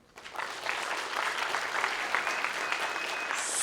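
Audience applause for student speakers at a French public-speaking contest, a dense steady clapping that swells in quickly and holds without a break.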